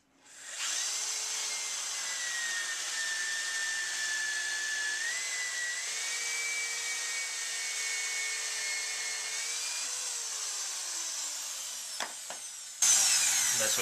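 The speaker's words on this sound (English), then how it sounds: "I like to flip it over using the same pilot hole and just cut that little bit out again." A power tool whines steadily while cutting a piece out of wood for a birdhouse through a pilot hole, a close, sustained high-pitched drone whose pitch drifts slightly as it cuts, then stops with a few clicks and a brief clatter.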